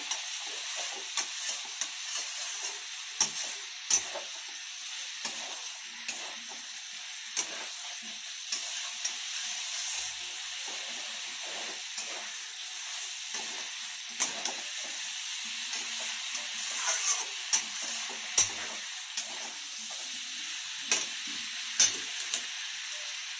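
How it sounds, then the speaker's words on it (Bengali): Cauliflower florets tossed with spices in a hot pan, a constant close sizzle broken by repeated scraping strokes of a spatula stirring the vegetables. "কপিগুলো দিয়ে ভালো করে নেড়ে, মশলাগুলো যেন কপির গায়ে লেগে যায়, ভালো করে নেড়ে তা একটু কষাতে হবে।"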